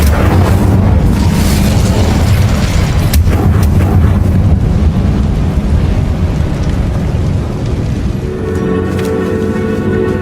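The Bombarda exploding spell in the game Hogwarts Legacy goes off as a loud, continuous rumbling boom with crackling debris. The blast fades gradually into lighter game ambience and a musical tone toward the end.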